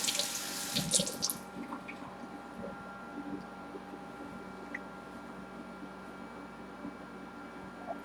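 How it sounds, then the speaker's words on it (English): Hands rinsed under a running kitchen faucet, a steady close stream of water splashing into a sink with a louder burst at the start, then settling into even flow, no talking. "Rinse my hands off a little bit."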